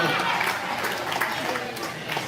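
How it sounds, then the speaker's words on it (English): Audience applause for a comedian at a live comedy show, a steady wash of clapping from a crowd that fills the whole moment at moderate loudness. "Give them a round of applause"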